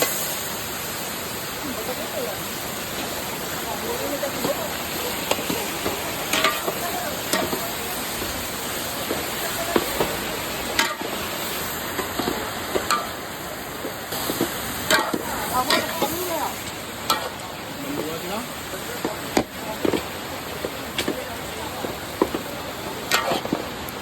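Carabao meat sizzling in a hot pan with garlic as it is flipped, a continuous close frying hiss with scattered crackles and utensil clicks, while a voice talks intermittently over it.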